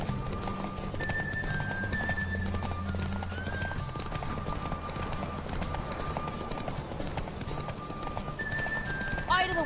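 A horse galloping in a race in The Witcher 3, steady rhythmic hoofbeats running throughout beneath game music and a voice, with a brief neigh near the end.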